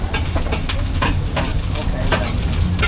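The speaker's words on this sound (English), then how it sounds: "listen to the sound of that sizzle" Chorizo sizzles and crackles on a hot griddle in Mexico, with scraping and stirring strokes at irregular intervals over a constant frying hiss.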